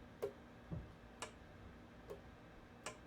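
Bassoon keys click as they are pressed down and released during reassembly, several faint, sharp, separate taps spaced about half a second to a second apart in a quiet room.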